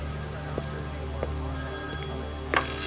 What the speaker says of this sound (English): A moment later, the phone rings.